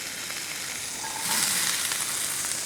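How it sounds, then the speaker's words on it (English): Onion sautés in oil with a steady, close hiss of frying that swells slightly louder midway, accompanied by faint stirring. "Then I'm going to saute the onion."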